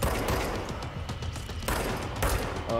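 Rapid bursts of gunfire crackle continuously at moderate volume, dense and overlapping, with a few sharper cracks standing out.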